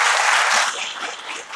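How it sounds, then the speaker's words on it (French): Applause from an audience at an event at a theatre, a dense burst of clapping that is loudest at the start and then thins slightly while continuing steadily. "Un maximum d'applaudissements quand même."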